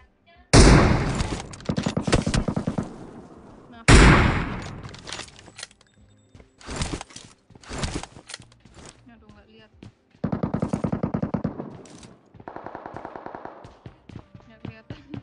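Enemy gunfire in a shooter video game, several loud bursts of rapid automatic shots separated by pauses, with single shots in between and voices talking over the gaps.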